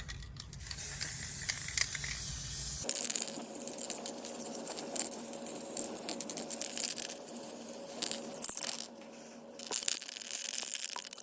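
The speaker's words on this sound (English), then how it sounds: "we're just gonna use the economy spray paint" A can of economy spray paint hisses steadily for a few seconds onto Suzuki Quad Runner 500 ATV wheels, then continues in quieter, intermittent bursts with light rattling and clicks.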